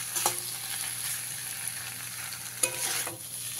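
Potatoes and tomato fry in mustard paste with a soft, steady sizzle, while a spoon stirs and scrapes the pan in a few brief clinks, quiet and close with no voices.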